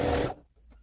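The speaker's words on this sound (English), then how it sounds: "Next it's time to sew all the interfaced facings to the garment." A sewing machine stitches interfaced facings onto a 1940s-style top in a brief, close, whirring run that stops abruptly, leaving near silence with a faint mechanical tick.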